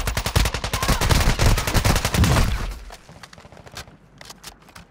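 Gunfire in Call of Duty: Warzone, with a loud burst of rapid automatic fire from a TR-76 Geist for about three seconds, then fainter, more distant scattered shots trailing off.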